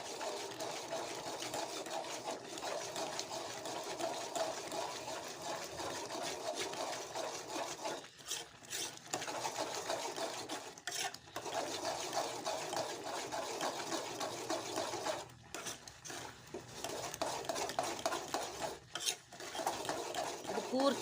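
Pineapple semolina sajjige with ghee is stirred in a pan until it firms, a steady close rasping scrape of spoon on metal that continues with a few brief pauses.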